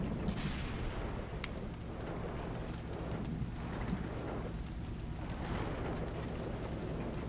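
Tank cannon fire and battle rumble in the World of Tanks console game, a dense, continuous roar of distant booms and heavy low thuds filling the whole stretch without speech.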